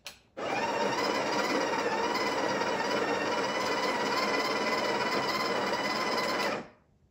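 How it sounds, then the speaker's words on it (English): A Breville Barista Touch BES880 espresso machine's built-in grinder runs in one continuous steady burst of about six seconds, a loud close whirring grind that starts and stops abruptly, with no talk. "So we'll grind it for about 5 seconds to get rid of the old grind size."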